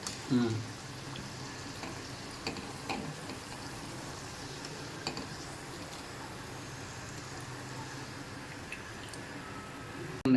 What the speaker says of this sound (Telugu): సో ఇప్పుడు డీప్ ఫ్రై అయిపోయినాయి